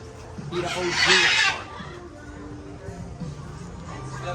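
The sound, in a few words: parrots squawking loudly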